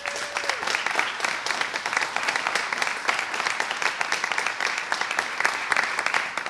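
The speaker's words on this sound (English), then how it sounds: "let's really give a round of applause for our teachers" Sustained applause from an assembled crowd of students and guests honoring their teachers at a Seattle celebration, dense steady clapping filling the whole stretch at even loudness with no break.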